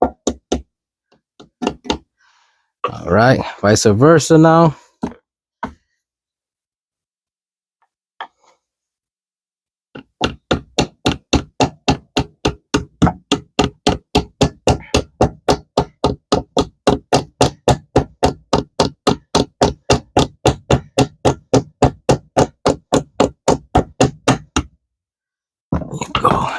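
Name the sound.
rubber hammer striking transmission part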